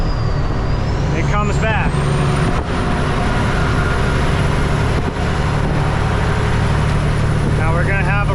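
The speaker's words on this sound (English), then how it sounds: "There it is. I lost an injector. And then rev it to the moon." A Peterbilt truck's diesel engine with a failed injector drones steadily and loudly at high revs, a rough continuous roar with a high whine above it, while someone speaks briefly over it.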